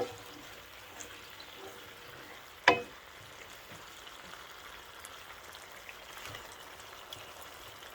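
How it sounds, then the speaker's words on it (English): Eggplant simmering in spicy garlic sauce in a pan gives a faint, steady bubbling sizzle, with one sharp clack of a utensil near the start, close and without talk. "Simmer for about a minute before putting the tofu."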